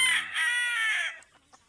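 A red junglefowl (labuyo) in a breeding setup crows loudly and close, one long harmonic call that ends in a few soft clucks before the sound fades.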